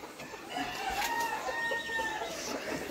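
Brahma hens and an older rooster on a farm: clucking and crowing calls rise mid-distance over a soft outdoor background, several overlapping bird voices with no talk.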